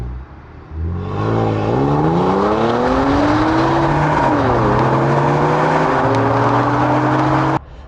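A Renault Clio V6 hot hatch accelerating hard on an open road, its engine note climbing steadily through the revs with a gear change partway, loud and close for several seconds before cutting off abruptly.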